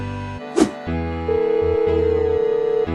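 A telephone rings during a call in an animated school romance drama. Under a low musical backdrop comes a brief knock, then a steady, loud electronic ring tone that holds for about a second and a half.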